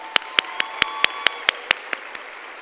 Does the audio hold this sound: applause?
yes